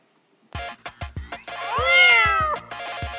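Cat meowing close by, a long drawn-out wavering meow rising and falling after several short knocks and clatters, with a few brief calls and thumps around it; no talking.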